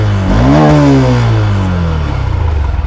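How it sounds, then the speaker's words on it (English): A Honda SP125 BS6 motorcycle revs close by, its exhaust note rising sharply and then falling away into a throbbing idle. "So here's the exhaust note."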